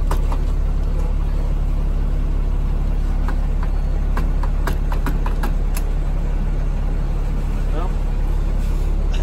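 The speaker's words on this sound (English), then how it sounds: "We're just driving in a parking lot." A vehicle rolls slowly around a parking lot, its engine and road noise a loud, steady rumble from inside the cabin while people talk throughout.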